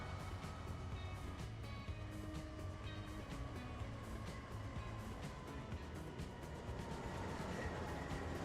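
A train rumbles steadily along the tracks in the video game Transport Fever 2, a continuous mid-level drone with faint clicking and engine tones throughout, no voices.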